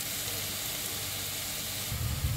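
Curry leaves tempering in hot oil for a ridge gourd curry give a steady close sizzle and hiss, swelling louder near the end, with no talking.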